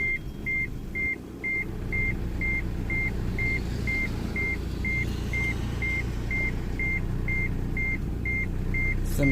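Honda Integra seatbelt warning chime, a steady run of evenly spaced short electronic beeps repeating about every half second, sounding over the rough low rumble of a misfiring idling engine.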